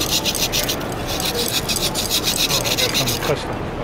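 A file rasps rapidly against dried glue on an antique glass light, repeated close scraping strokes in a quick steady rhythm, loud and alone.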